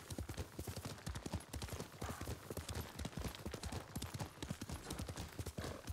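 Horse hooves clip-clop in the video game Ghost of Tsushima, a quick, regular trotting rhythm that continues throughout at a soft, fairly distant level.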